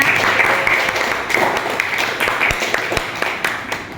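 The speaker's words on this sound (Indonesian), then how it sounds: "Beri tepuk tangan semuanya." Classroom applause from students after a classmate's summary of the lesson, a light, steady patter of clapping lasting throughout at moderate level with a few sharper claps near the end.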